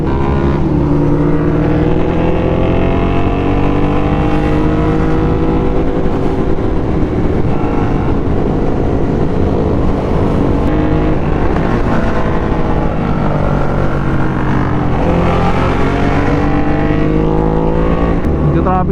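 A Yamaha Tracer 9 GT motorcycle with a muffler exhaust, ridden on a drying road in traffic during a group year-end ride, gives a loud, steady engine drone close by, with revs rising and falling throughout.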